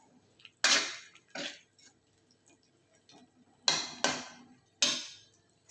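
Spoon stirring vegetable soup with seasoning in a metal pot, giving scattered scraping clinks and taps in irregular bursts, a few strokes near and clear with quiet gaps between.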